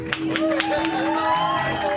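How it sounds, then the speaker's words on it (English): A live-show audience claps and cheers in a dense, steady wash of applause over faint tonal sounds, lasting a couple of seconds. "Keep that round of applause going."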